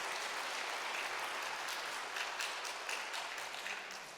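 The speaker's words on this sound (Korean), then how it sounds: "박수 쳐주세요." A church congregation gives sustained applause, a broad even roar of many people clapping at moderate volume that holds steady without voices.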